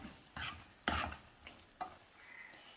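A spoon scrapes and clatters a few times through a sizzling onion and garlic mixture with a pinch of asafoetida in a hot pan, leaving separate soft stirring strokes over a faint background hiss.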